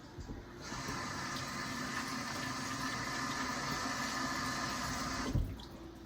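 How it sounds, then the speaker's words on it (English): Tap water runs steadily into a sink as hands are rinsed while seasoning chicken, a close, even gushing stream that starts abruptly, holds for several seconds, then cuts off with a brief splash. "Let's rinse out my hands."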